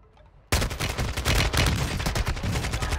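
Rapid automatic gunfire in Warzone 2 erupts after a brief quiet start, a dense, loud stream of shots continuing without pause.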